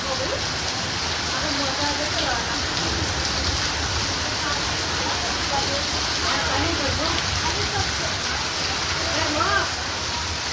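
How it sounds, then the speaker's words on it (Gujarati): Steady, dense rain hisses across the whole clip, a continuous wash of patter with no pauses, loud and close. "વરસાદ આવ્યો"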